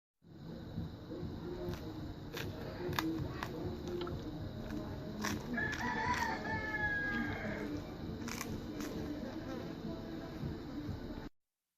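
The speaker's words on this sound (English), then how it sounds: "I wanted you guys to hear the sound of the chicken skin, how crispy it is." Crispy skin on a freshly roasted, spice-rubbed chicken half crackles as it is cut, giving a string of sharp, close crunches and pops over a steady background hiss.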